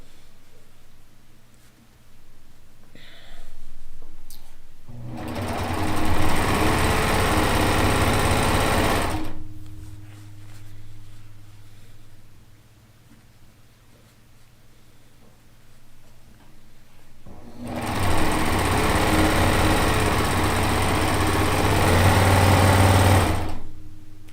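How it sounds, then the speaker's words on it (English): A sewing machine joins five quilt squares in two long runs of steady, loud whirring stitching, with a quiet pause between them, close by. "Let's sew these 5 squares together."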